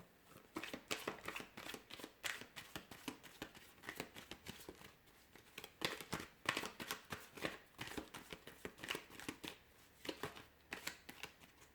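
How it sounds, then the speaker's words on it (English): Close, continuous tarot card shuffling with rapid papery flicks and slaps in an uneven rhythm, no voices. "let's give the cards a shuffle and get into it"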